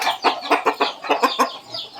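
Game chickens, a mixed batch of fighting-cock breeds raised at a small family farm, give a run of about eight rhythmic clucks close by, evenly spaced and fairly loud, then trail off into quieter murmuring.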